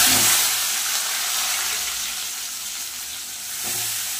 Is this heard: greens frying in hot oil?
yes